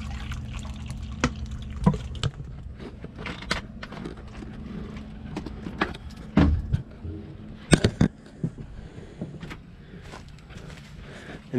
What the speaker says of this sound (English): Pour me a drink here again.